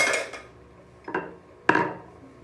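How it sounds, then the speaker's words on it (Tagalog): Dishes clink during washing, with three separate sharp ceramic knocks spaced about a second apart, close and clear against a quiet background. "So I'll wash dishes now."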